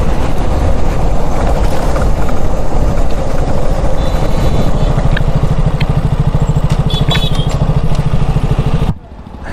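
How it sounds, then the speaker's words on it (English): A Himalayan motorcycle engine runs close by on a test drive, a loud, steady, rough drone that continues without a break until it cuts off abruptly near the end. "I'll be test driving this Himalayan."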